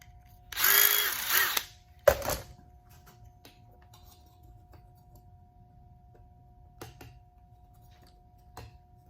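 A power drill with a step bit deburrs the back side of a drilled hole while mounting a tachometer: one loud whirring burst, a short second burst, then faint scattered ticks and handling sounds.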